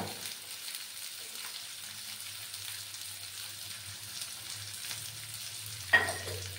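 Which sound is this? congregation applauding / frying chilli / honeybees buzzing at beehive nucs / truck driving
frying chilli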